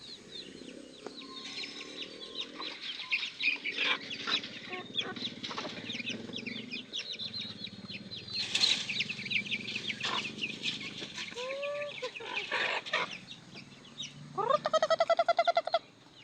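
Backyard chickens cluck and call intermittently at a moderate distance, with a rooster-like burst near the end, over steady faint background noise.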